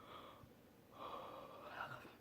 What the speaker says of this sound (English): I'm yawning because I just woke up.